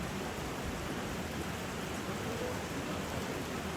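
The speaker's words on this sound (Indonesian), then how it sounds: "Hujan terus ini pemirsa." Steady rain pours down outdoors at a village funeral ceremony in Tandung, a dense, even hiss that fills the whole stretch without letting up.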